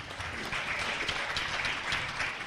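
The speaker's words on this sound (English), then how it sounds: "I'll always applaud extra credit." Steady applause from a theater audience fills the room, a dense, continuous patter of many hands clapping without a break.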